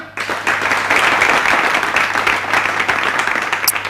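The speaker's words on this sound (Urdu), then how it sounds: "تالیاں" A crowd applauds with dense, steady clapping that carries on for several seconds without a break.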